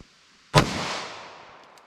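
A single sharp .40 Smith & Wesson Winchester Defender gunshot cracks loudly at an outdoor range, and its echo trails off slowly afterward.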